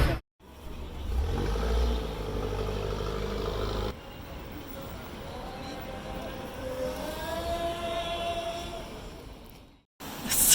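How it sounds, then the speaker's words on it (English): A car engine hums steadily from inside the vehicle, its pitch rising as it accelerates, with road noise underneath. "So we're on day 3 now, and we've rented a car, and Greg's doing the driving."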